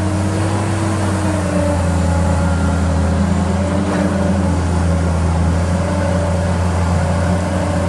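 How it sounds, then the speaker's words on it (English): Steady idle of an LP gas Toyota 6-cylinder engine in a Toyota 02-3FG40 8,000 lb pneumatic tire forklift, a smooth continuous low hum with even harmonics, close and unchanging throughout with no talking. "Running a smooth LP gas Toyota 6-cylinder, clean burning fuel"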